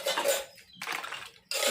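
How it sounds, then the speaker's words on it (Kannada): Washed metal pooja vessels clank and clatter as they are set aside, two bursts of ringing metal-on-metal knocks close by, separated by a short quiet gap, with no voices. "ಎಲ್ಲ ಪಾತ್ರೆಗಳನ್ನು ಅದೇ ರೀತಿ ತೊಳೆದು ಸೈಡಲ್ಲಿ ಇಟ್ಕೊಳ್ಳೋಣ."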